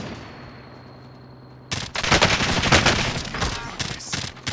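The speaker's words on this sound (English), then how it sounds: "he's getting shot from up top as well" Loud, dense automatic gunfire from Call of Duty Warzone in solos mode, bursting in suddenly after a quieter stretch of game ambience and continuing in rapid overlapping volleys.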